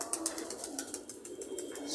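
Pigeons kept with other animals at a private collection coo softly in the background, a low, rolling murmur that runs through the short stretch at moderate distance, with faint higher chirps now and then.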